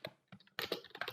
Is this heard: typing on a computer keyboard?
yes